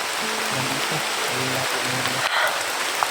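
Steady rain falls in a constant hiss that fills the whole span, with a low tonal hum underneath and no talking.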